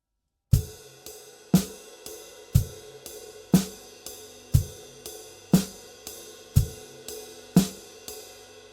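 Drum kit groove with ride cymbal and hi-hat foot: a steady kick-driven pattern of evenly spaced thuds about once per second, each with a bright cymbal wash, close and clear with no voices.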